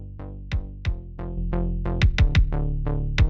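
Unprocessed synthwave low end: a punchy kick drum hits in a steady pattern with a few quick doubled hits, over a sustained synth bass, dry and upfront with no voices.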